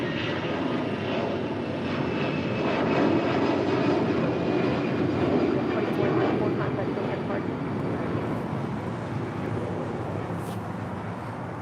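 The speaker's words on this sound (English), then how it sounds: "That was Allegiant Air Flight 2404 heading to Memphis at that A320" An Allegiant Air Airbus A320 departs from LAX, its jet engines a broad, sustained roar that swells and then slowly fades, with a voice talking over it at times.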